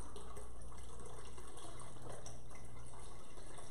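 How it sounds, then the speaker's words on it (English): Chicken broth pours slowly from a carton into a soup pot, a continuous even splashing and trickling rush of liquid heard up close with no voices. "I'm gonna pour a little slowly so I don't"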